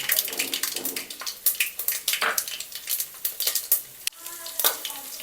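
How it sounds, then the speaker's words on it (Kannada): Garlic and mustard seeds frying in hot oil in a pan for Kerala-style mango pickle, giving a dense crackling sizzle with rapid sharp pops, close and steady throughout. "ಅದು ಸಾಸಿವೆ ಹೊಡಿತಿರೋಂಗೆ ಒಂದು ನಲವತ್ತು ಮೂವತ್ತು ಬೆಳ್ಳುಳ್ಳಿ ಹಾಕೊಳ್ಳಿ"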